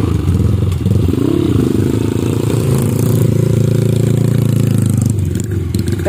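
Suzuki TS 125 trail motorcycle engine revving loudly and steadily on a dirt trail ride, close up, with pitch rising and wavering throughout and no talk over it.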